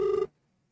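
A phone rings once with a short electronic tone that cuts off abruptly, followed by near silence.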